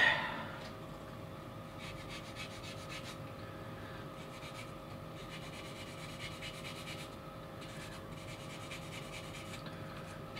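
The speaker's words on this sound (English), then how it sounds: "So I guess I want to get a sanding board here." A sanding board rubs against a small plastic Gundam model part in short, repeated strokes, a soft, close scratching rasp at low volume that continues steadily.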